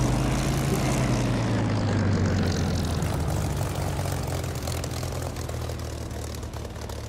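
A Spitfire's propeller engine rumbles steadily after landing in the DCS flight simulator, loud and close with a constant low drone that eases slightly toward the end.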